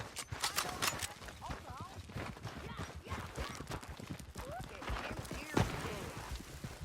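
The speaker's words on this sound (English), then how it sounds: "We need our horses." Horse hooves clip-clop at a steady walking pace amid a busy, noisy Red Dead Redemption 2 gunfight scene with voices and other activity layered over them.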